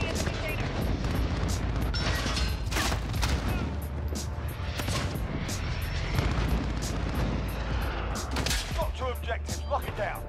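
Gunfire aimed at the player in the video game Modern Warfare, with scattered sharp shots and booms over a constant dense battle rumble, fairly loud throughout, and a voice talking over it.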